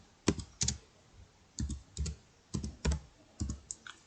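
Keys clatter on a computer keyboard in short quiet clusters of two or three presses, with small gaps between the clusters, in a calm room.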